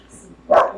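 A single short dog bark sounds close and fairly loud after a quiet moment.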